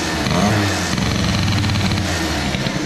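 A motorcycle with a Doppler exhaust, a Streetcup or ER1, drones in a loud, steady, rough low rumble held at moderate revs for about three seconds, with no voices.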